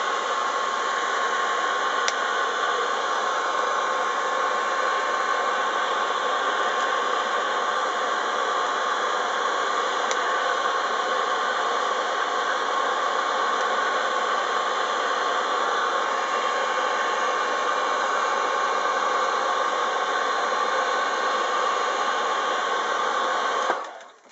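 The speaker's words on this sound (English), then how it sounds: "get the heat gun and shrink it down" Heat gun blowing hot air to shrink heat-shrink tubing on a small electrical part, a steady, even whooshing hiss that continues without change and then stops abruptly at the end.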